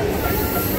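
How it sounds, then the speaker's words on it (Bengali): A train pulling into Bardhaman railway station, a steady, loud rumble of wagons with a faint rhythmic clatter and hiss filling the short moment, no voices. "ট্রেন ঢুকছে বর্ধমান স্টেশনে।"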